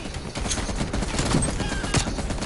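A heavy machine gun fires in the Call of Duty Cold War video game as a fairly faint, distant rattle of rapid shots mixed into battle noise.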